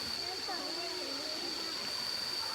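Mae Kasa waterfall pours with a steady, even rushing hiss that holds constant throughout, while people talk over it close by.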